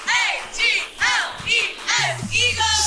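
Eagles fans in a cheer squad on Radio Row in Phoenix, Arizona, chanting in unison, loud rhythmic group shouts repeating in a regular pattern of about six syllable bursts, close to the microphone.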